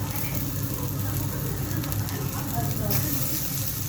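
Garlic sizzles in a hot pan while sarciado fish is being cooked, a soft steady frying hiss under low background rumble and a voice speaking.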